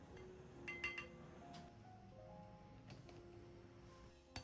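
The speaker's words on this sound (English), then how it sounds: "Stir gently to mix the 2 ingredients together." Light glassy clinks and taps ring out a few times against a quiet background as a spoon gently stirs vinegar and water in a glass bowl.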